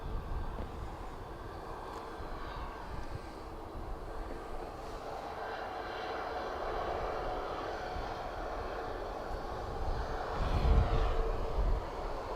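A Pegasus airliner from Istanbul at Dublin Airport rumbles as a steady, fairly distant jet roar with a slow swell toward the end, heard alone without voices.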